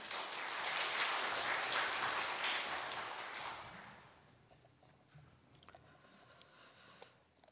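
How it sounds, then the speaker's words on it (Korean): A church congregation at a Sunday service applauds to welcome a pastor. The faint, distant clapping lasts about four seconds, then dies away into quiet room noise with a few scattered taps. "우리 큰 박수로 환영하겠습니다"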